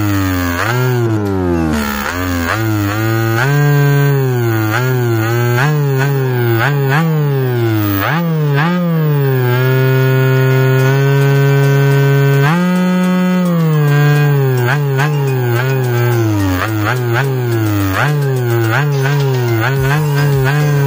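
An e-bike's add-on speaker plays a simulated big-bike engine sound, a loud continuous buzzing drone that revs up and down repeatedly, with no talking over it.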